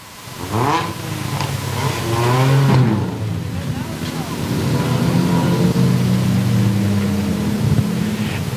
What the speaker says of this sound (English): Drivers going by and revving the engines